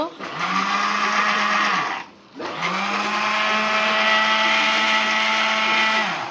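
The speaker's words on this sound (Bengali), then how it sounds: "আদা রসুন ব্লেন্ডার করা হচ্ছে" A kitchen blender grinds ginger and garlic, its motor whining loud and close in two bursts separated by a brief pause, with a steady high-pitched hum throughout.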